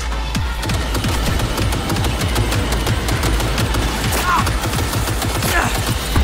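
Rapid, continuous automatic gunfire from the video game Cyberpunk 2077: Phantom Liberty, loud and close, with dense overlapping shots and a steady low rumble underneath.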